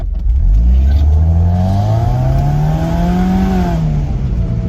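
A car engine revs hard and climbs in pitch as it accelerates in a failed wheel spin attempt, loud and close, then eases off slightly without any clear tyre screech.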